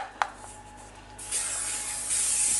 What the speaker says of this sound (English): then we'll just get a little bit of spray oil